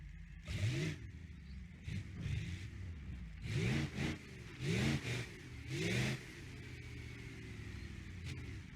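A 6.0L diesel engine with an ultra heavy duty long block, swapped into a 200bx in a racing game, revs in four sharp rising bursts over a steady idle, loud and close.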